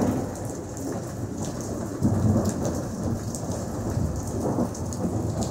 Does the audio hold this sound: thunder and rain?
yes